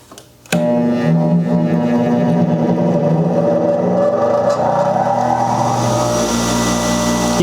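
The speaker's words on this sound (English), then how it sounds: "Let's turn the grinder on itself." An angle grinder powered by a Milwaukee M18 Carry-On power supply switches on with a sudden start and then runs as a loud, close, continuous high whine that holds steady to the end.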